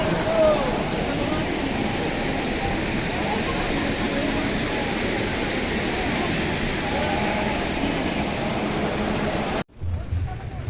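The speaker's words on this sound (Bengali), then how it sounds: "এই হলো উশ্রী ফলস বা উশ্রী নদীর ঝর্ণা" Usri Falls, the waterfall on the Usri river near Dhanbad, roars in a loud, steady broadband wash that continues unbroken before cutting off abruptly near the end.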